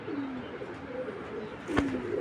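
A strong racing pigeon gives a couple of short, throaty coos up close, with a brief sharp tap near the end against a quiet background.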